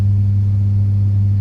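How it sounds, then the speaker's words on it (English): Room lighting gives off a steady, loud, low electrical hum oscillating around 100 Hz, continuous and unchanging with nothing else audible. "lighting, which oscillates around 100 Hz, which is that humming noise you hear"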